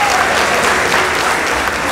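Loud, dense audience applause at a school debate competition as the winning team is announced, a continuous wall of clapping close to the listener, with a few faint voices underneath.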